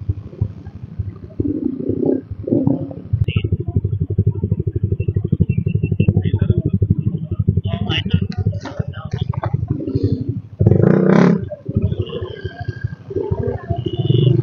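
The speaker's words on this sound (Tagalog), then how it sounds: "Grabe yung motor, parang alien" A motorcycle engine idles and revs nearby in traffic on a seaside road toward Monte Maria, Batangas City, with a rough, pulsing drone, while people talk over it and traffic noise fills the background.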